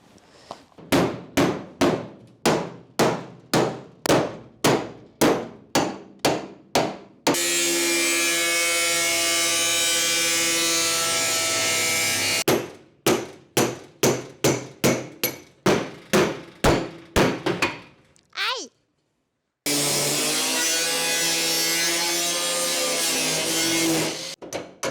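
Tool cutting through the metal body of a Citroën 2CV car, loud rapid series of sharp metallic impacts alternating with long sustained harsh grinding or sawing bursts, close and very loud, with a brief silent gap.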